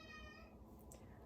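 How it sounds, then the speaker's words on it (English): A house cat meows indoors, its harmonic, slightly drawn-out cry clear and close for about half a second before fading, followed by a faint rustle. "I'm house sitting, so you may hear a cat."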